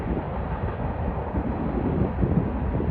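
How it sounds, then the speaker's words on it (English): Steady, dense rumble of a Union Pacific freight train rolling past close by in Sterling, Illinois, constant and broad with no breaks over a few seconds. "And the next one is a Union Pacific train."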